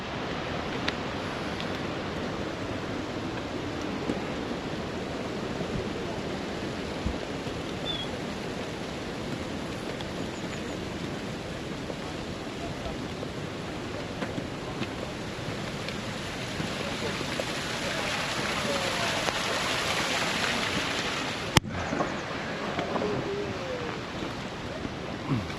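Rain on a Himalayan trek at about 2,900 metres on the Annapurna route: a dense, even wash of falling rain that continues without letup, slightly louder near the end.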